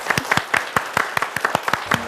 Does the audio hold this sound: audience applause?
yes